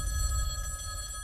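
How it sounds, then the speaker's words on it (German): A telephone rings in short, bright tonal bursts over a low background rumble, held steady and fairly faint through the brief moment. "dieses Telefon da drüben wird klingeln"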